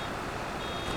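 A farm machine beeps in Farming Simulator 25 on the Judith Plains, Montana map. A thin, steady tone sits under loud, continuous engine and mechanical noise.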